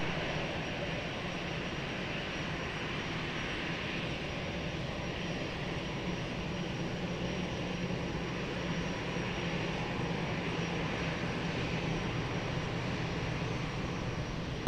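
Airplane taking off from runway 20 at Lisbon Airport, heard as a steady, sustained broadband jet engine roar at moderate distance that holds evenly for the whole stretch with no voices.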